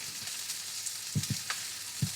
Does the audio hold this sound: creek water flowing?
no